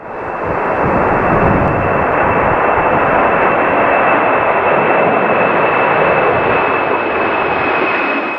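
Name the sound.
Boeing 757 taking off in strong crosswind, Manchester Airport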